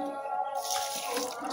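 Liquid fertilizer poured onto a chili plant on a home terrace, a steady splash and trickle of water close by, brighter and louder in the second half, with no talk.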